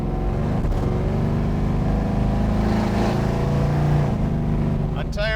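A 1970 Plymouth Barracuda restomod with a HEMI V8 idles close by with a loud, deep, lumpy rumble that holds steady and swells slightly. A voice is heard briefly over the engine.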